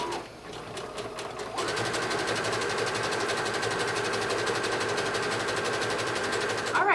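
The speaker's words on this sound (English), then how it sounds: "I'm going to zigzag stitch all the way around this raw edge to give us a nice finished look" A sewing machine runs a zigzag stitch around a raw fabric edge on a jumper, its motor whirring steadily and close after a brief slower start, continuous to the end with no talking.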